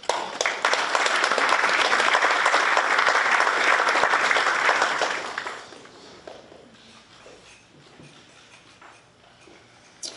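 A crowd at a public service recognition ceremony applauds 30-year honorees, loud, dense clapping that holds steady for about five seconds, then fades to a few scattered claps and quiet room noise.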